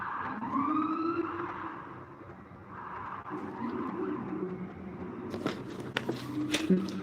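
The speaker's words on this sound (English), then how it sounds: "You hear the sirens?" A siren wails in the distance, rising and falling beneath low background noise and some indistinct voices.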